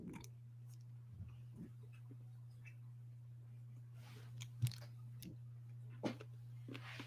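Crunchy Milky Way-style candy bar being chewed close to the mic, with sparse irregular crunches and clicks over a steady low hum and no talk.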